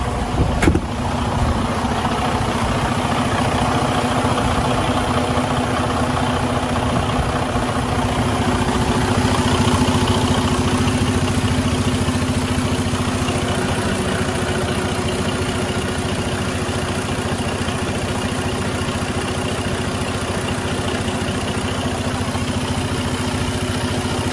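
A 2016 Freightliner Coronado 122 SD semi truck's diesel engine idles steadily up close, a continuous low rumble with a constant drone that holds unchanged throughout.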